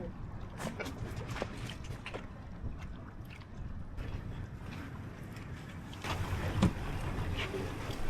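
A boat motor near Florida Keys bridges, put in gear and moving forward, rumbles steadily with rushing water and wind buffeting, growing slightly louder toward the end.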